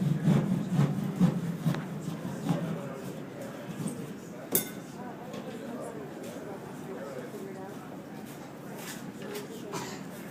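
A blade rasps through drywall from a patch hole toward the corner, repeated scraping strokes close by, loudest early and then fading, with a sharp click near the middle and a voice talking over it.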